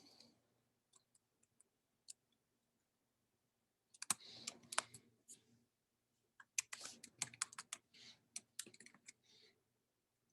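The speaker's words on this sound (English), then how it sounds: "I could also type in an email." Keyboard typing while an email address is entered on a computer, in scattered bursts of quick clicks with pauses between, close and fairly quiet, with no talking.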